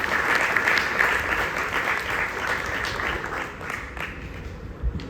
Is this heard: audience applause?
yes